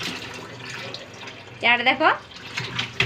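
A child splashes and plays with water at a tap, with short watery bursts and trickles while people talk nearby.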